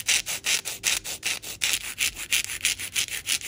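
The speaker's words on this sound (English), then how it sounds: "Now I'm just going to shape the nail tips a little." Polygel nail tips are filed into shape with quick, rhythmic rasping strokes, a steady back-and-forth scratching repeated about every quarter second, close and alone.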